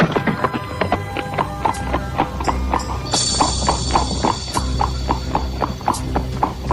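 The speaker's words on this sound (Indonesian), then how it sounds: "Jaka Badak dan Dewi Astini mengurangi lari kudanya" Horses ride into a forest in a radio drama, steady hoofbeat clip-clops at a brisk trotting pace close up, with a bright metallic jingle layered in briefly partway through and no voices.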